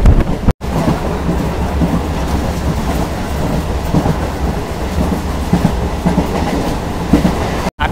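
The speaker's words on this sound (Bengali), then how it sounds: "আর আমাদের ট্রেনটা এখন গোপালনগর থেকে ছেড়ে দিল" Local train on the Bangaon–Ranaghat line running at speed after leaving Gopalnagar, old ICF coaches swaying, giving a loud continuous rumble with rattling clatter throughout.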